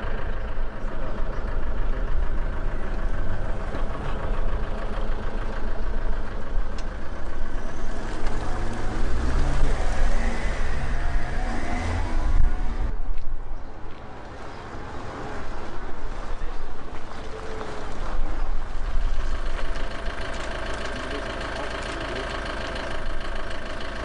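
A VBL armoured vehicle's engine runs steadily with a loud, constant low rumble and drone that dips briefly partway through, close and dominating, without speech.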